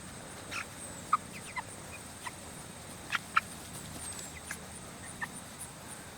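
Cornish Cross meat chickens, about four weeks old, make a scattering of short, faint clucks and chirps at irregular intervals over a steady outdoor background hiss, with no talking.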